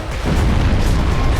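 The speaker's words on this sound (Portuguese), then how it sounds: "Essa explosão dele é uma merda, mano." Loud booming enemy explosion in Dark Souls, a deep sustained rumbling blast that fills the moment after a brief quiet start.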